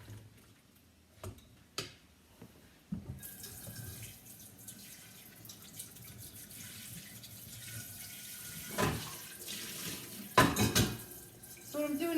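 Ice cold water runs from a kitchen tap into a bowl of potatoes, a steady splashing stream with a few knocks and clinks of the bowl, and sharper splashes toward the end.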